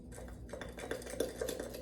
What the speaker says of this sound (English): Mix it really well and get all the little bumps and lumps out.